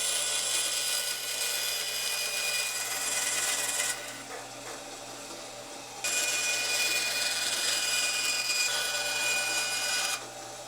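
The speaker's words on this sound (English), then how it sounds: "Much easier to run it through the bandsaw this way." A bandsaw cuts wood for guitar heel and tail blocks, a steady bright whirring rasp in two long passes separated by a quieter idle gap.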